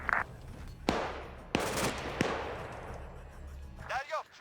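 Sharp gunshots ring out in the military shooter game Arma 3: a few separate loud cracks with reverberant tails, spaced about a second apart, while players talk over the radio.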